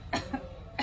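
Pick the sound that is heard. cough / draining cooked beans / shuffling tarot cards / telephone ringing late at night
cough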